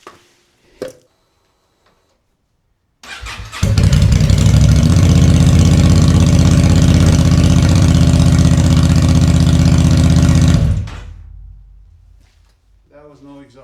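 A Honda Transalp 750 motorcycle engine runs with no exhaust fitted, a loud, raw, steady roar that starts abruptly, holds for about seven seconds, then cuts off and fades, with brief talk before and after.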